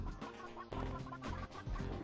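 Chickens in the PS1 game Gex 3: Deep Cover Gecko cluck in short, rapid bursts, close and clear with no talk over them.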